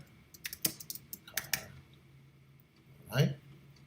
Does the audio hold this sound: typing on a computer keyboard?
yes